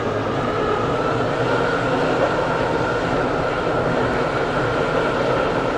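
A Class 720 train runs in the Stepford County Railway game, giving a loud, steady, broadband rumble of motion and carriage noise that continues unbroken without any voices.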